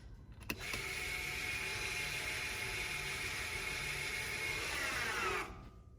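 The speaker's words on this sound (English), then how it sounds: "So I'm gonna set the parking brake now, and the motor should run for a while" On a 2017 BMW X4 M40i, the electric parking brake motor whirs steadily for about five seconds after a faint click, a close, quiet mechanical drone that stops abruptly.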